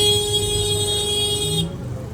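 Car horns blare in an Indian traffic jam, a sustained overlapping honk over steady engine noise that cuts off abruptly near the end.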